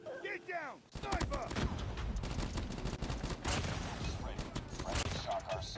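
Rapid bursts of gunfire in Call of Duty Mobile with a Type 25 rifle, dense and loud after a short opening of other game sounds, with a voice talking over parts of it.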